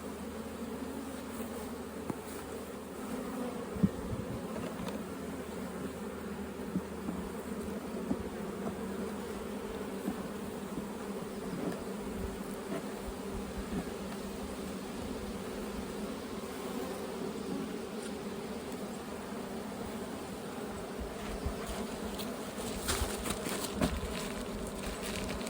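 Honey bees in a bee yard keep up a soft, steady buzzing hum, faint and continuous throughout.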